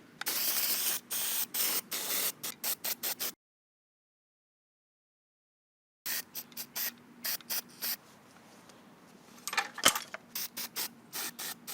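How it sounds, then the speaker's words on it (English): Aerosol spray paint on a Yamaha DT100 dirt bike frame, heard as repeated short bursts of hissing spray in two runs separated by a silent gap, with one sharp click near the end. "Pretty sure I'm spraying for no reason at this point."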